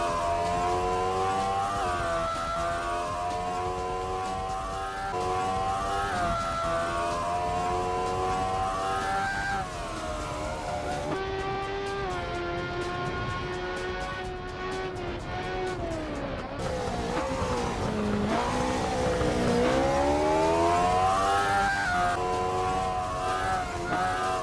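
Race car lapping Oulton Park in the racing game Assetto Corsa, its engine revving up and down continuously through gear changes and corners, with brief tire squeal, loud and close with no talk.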